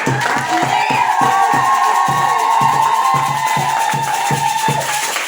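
Church congregation at an evening prayer service cheering and acclaiming the Lord, loud rhythmic clapping in a steady beat with crowd voices and sustained tones over it, continuous and close throughout.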